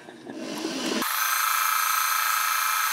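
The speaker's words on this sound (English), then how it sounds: "I'm going to sew again a quarter of an inch on each side of one of those lines." A sewing machine stitching quarter-inch seams through quilt block fabric starts up after a brief moment of quiet, then runs as a steady, close, continuous motor whir to the end.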